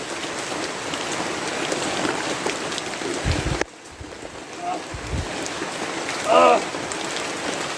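Heavy rain drums steadily on a surface, a dense continuous hiss that briefly drops out, with a few thumps, and people talk over it near the end.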